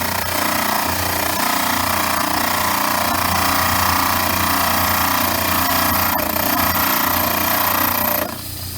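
A dental model trimmer's grinding wheel runs against a plaster study model with a loud, steady abrasive whir and grinding rasp that cuts off abruptly near the end.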